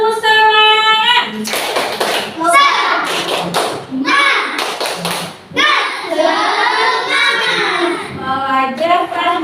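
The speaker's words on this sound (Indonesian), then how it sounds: "Oke, tepuk semangat." A classroom of children performs a rhythmic spirit clap chant at an Indonesian school lesson, loud claps and thumps in patterned bursts mixed with children's chanting voices, close and energetic throughout.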